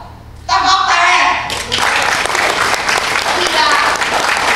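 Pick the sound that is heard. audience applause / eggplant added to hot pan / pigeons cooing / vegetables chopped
audience applause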